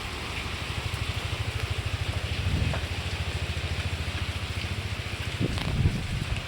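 Rain patters steadily on a metal cattle shed roof in a continuous, fairly quiet wash, with a low rhythmic rumble underneath and a few sharper drips.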